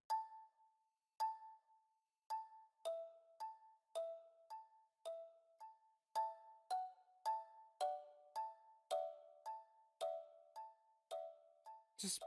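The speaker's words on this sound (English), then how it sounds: "added in this little like island bell pluck" Bell-like pluck synth drenched in heavy delay, playing a repeating melodic pattern of bright, chiming notes in a beat; each pluck echoes and decays, layering into a steady rhythmic sequence with no voices.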